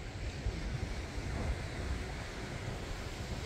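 Ocean surf and wind at Mullaloo Beach, Western Australia, a continuous broad rushing wash with gusty wind buffeting the microphone, steady and moderately loud with no one speaking.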